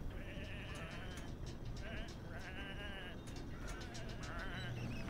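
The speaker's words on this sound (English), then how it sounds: "Come on, these are just sheep." Several sheep in a video game bleat in repeated wavering cries, overlapping in bursts across a steady background bed of ambient noise.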